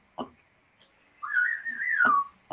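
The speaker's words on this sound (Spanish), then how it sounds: "Vamos a silbar todos." A single clear whistle, a rising then gliding tone held for about a second, set between short bursts of background noise.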